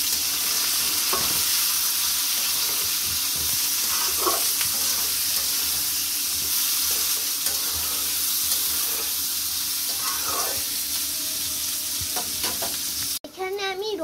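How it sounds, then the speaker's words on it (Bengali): Chopped onions sizzle steadily in a hot pan for chicken liver curry, with repeated scraping stir strokes over a continuous close frying hiss; a brief different noise cuts in at the very end. "এবার পেঁয়াজ কুচিগুলোকে দিয়ে দিলাম।"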